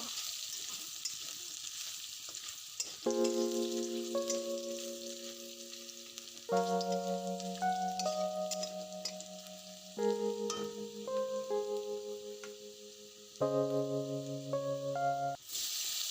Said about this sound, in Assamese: আদা নহৰু পেষ্টখিনি দি লৈছোঁ